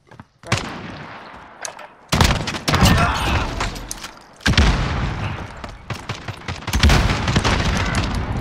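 Gunfire from the Call of Duty video game, with loud bursts of rapid shots and heavy booms coming in clusters, some sharp single cracks between them, filling the whole stretch with dense, close combat noise.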